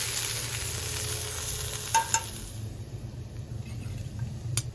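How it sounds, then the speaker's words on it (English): Onion and garlic sizzle steadily in a pan set over a compact portable fire pit at a camp cookout, a continuous close frying hiss with a couple of faint utensil clicks. "I have the onion and garlic simmering in the pan."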